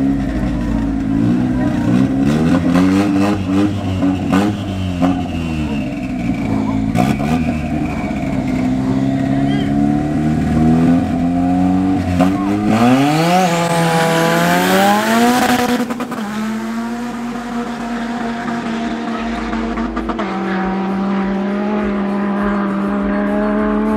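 Loud, close street drag race in Johannesburg between a Toyota Corolla and a Golf, one running R888 tyres, with engines revving hard, rising and falling through gear changes, and a long roaring pull that fades toward the end.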